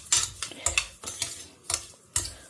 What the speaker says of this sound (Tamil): ஸோ இதை கொஞ்சம் நல்லா வறுத்துக்கலாம்.